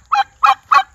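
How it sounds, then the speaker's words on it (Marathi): Three loud, evenly spaced harsh honking calls from a guinea fowl, close by, at a rural home near Trimbakeshwar in the evening as the birds head in to roost. "आणि ही गिनी फाऊल"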